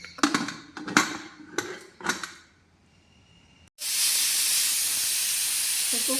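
A pressure cooker cooking tender jackfruit gives a few metallic clanks and knocks, then after a short quiet gap bursts into a loud, sustained hiss of escaping steam that holds steady to the end.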